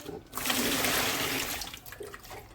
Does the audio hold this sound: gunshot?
no